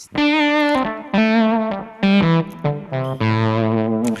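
Distorted guitar notes through a Kemper Profiler with a buzzy, synth-like effect, played in several sustained phrases with short breaks between them, loud and close.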